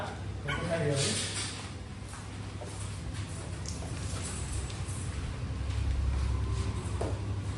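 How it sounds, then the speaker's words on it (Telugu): Rottweiler puppies whimper and yip in short high cries, mixed with a person talking and a steady low background hum. "ఇవి Rottweiler male and female puppies available వచ్చేస్తున్నాయి"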